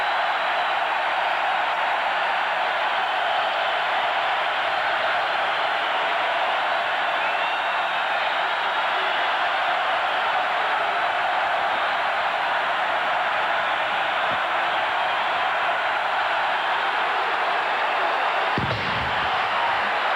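A steady, roaring stadium crowd of over 40,000 standing at Cardinal Stadium during a 1991 Tennessee vs Louisville football game, a broad, continuous wash of noise with no breaks, plus a single thump near the end.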